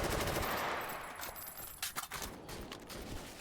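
Rapid shotgun blasts of number 4 buckshot in a competitive video game match, a dense run of bursts that thins into scattered louder reports, fairly close.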